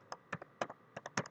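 Keys clatter on a computer keyboard as code is typed for a simple menu application, about eight quick, crisp keystrokes in uneven bursts, close by with no talking.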